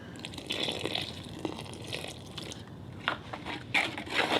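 Water poured from a tap into a container to mix cement-board tape compound during a bathroom renovation, a soft splashing fill with light drips and scrapes, fairly quiet and close, no talking.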